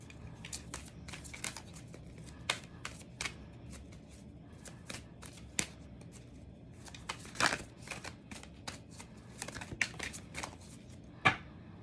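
Angel message cards shuffled close by in soft, irregular bursts of riffling and flicking, with a few sharper snaps, all quiet and without talk.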